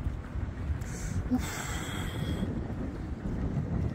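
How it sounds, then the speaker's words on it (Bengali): Strong wind buffets the microphone in a gusty, roaring rumble by a waterfront with ships in Sault Ste. Marie, Ontario, continuous and close throughout. "প্রচুর বাতাস"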